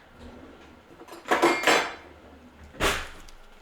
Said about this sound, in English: we need to cut these rolls, which is arguably the hardest part